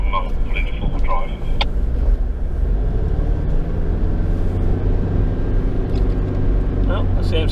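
A four-wheel-drive vehicle rolls onto beach sand at Granville Harbour, Tasmania, its engine droning low and steady throughout, with people talking over it inside the cabin.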